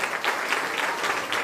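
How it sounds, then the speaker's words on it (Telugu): Guests at a Christian wedding clap together, a soft but continuous spread of many hands heard from a little distance, steady throughout with no talking. "మీ ఎందుకంటే చాలా గట్టి కొడుతున్నారు చప్పట్లు"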